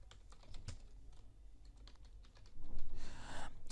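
A charity name being typed on a computer keyboard as a close, steady run of rapid key clicks, with a louder, busier burst of keystrokes near the end.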